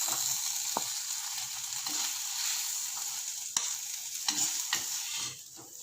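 Tomatoes sizzle and sauté in a pan for a fish kuzhambu, a continuous bright frying hiss punctuated by several scraping strokes of a spoon stirring, close and steady with no talk.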